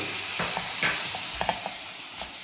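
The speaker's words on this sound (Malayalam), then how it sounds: "2 ഫുൾ തക്കാളി ചെറുതായിട്ട് ചോപ്പ് ചെയ്തതാണ് ആഡ് ചെയ്യുന്നത്." Two whole chopped tomatoes hiss and sizzle in a hot pan for egg curry, with a few soft scraping stirs and light clicks of a utensil against the pan, close by and without talk.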